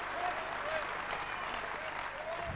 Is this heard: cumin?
no